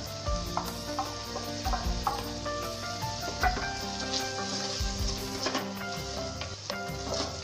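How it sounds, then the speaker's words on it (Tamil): Onion and tomato paste sizzles and spatters as it is added to a pot of biryani, a steady crackling fry with scattered clinks and scrapes, close and moderately quiet, with no talking. "இந்த வெங்காயம் தக்காளி பேஸ்ட் அப்படியே உள்ள கொட்டிடுவோம்"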